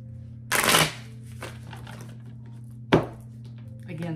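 A deck of tarot cards being shuffled indoors, heard as two short, crisp riffling bursts over a low background hum.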